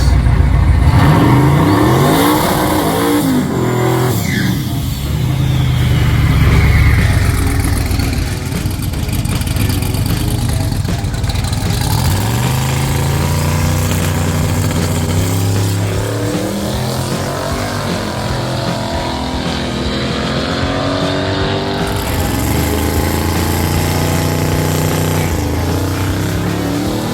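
A race car makes a drag racing pass, its engine revving hard with rising and falling gear-change sweeps, loud and continuous from start to finish without speech.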